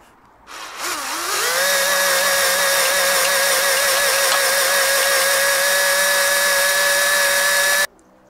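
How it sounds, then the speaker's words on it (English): A drill spins up and grinds steadily into an MG TF car subframe, slowly, for several seconds, a loud continuous whine, then stops abruptly. "So I'm going to try the next size drill bit up"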